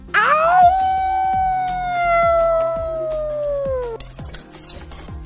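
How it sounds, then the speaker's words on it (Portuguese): A long, mournful wolf howl in a Free Fire game promo rises and then holds a sustained wavering tone over a rhythmic beat of music, before a bright sting of sound effects cuts in at the end. "Uiva sem medo pra Alcateia."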